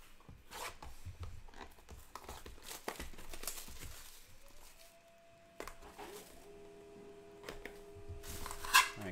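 Packs of 2020-21 Upper Deck Allure hockey cards are ripped open during a case break, giving scattered crinkling, tearing bursts of wrapper over a quiet room, with a faint steady tone appearing partway through.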